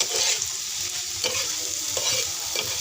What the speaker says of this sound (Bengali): এভাবে আমার মতো হালকা তেলে ভেজে নেবেন সাথে শুকনো লঙ্কা ভেজে নেবেন